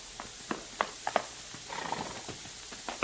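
Radio-drama horse sound effect: scattered hoof clops and a few sharp knocks at moderate level, with brief rattling between them, no voices.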